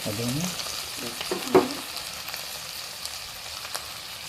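Ground spices (garam masala, cumin, coriander) frying in oil for hilsa biryani, a steady soft sizzle with a few stirring clinks and scrapes, one sharper knock near the middle, no talking.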